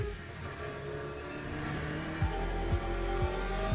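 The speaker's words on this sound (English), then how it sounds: "One was how good the car sounded in the trees at Tetra Rouge." Aston Martin GTE race car at Tertre Rouge, its engine a steady loud drone echoing off the surrounding trees, with a few sharp bursts near the end that may be gear changes or backfires.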